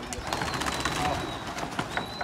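Pigeons in a loft coo in a low, continuous murmur, with a few wing and chirp sounds mixed into the busy flock noise.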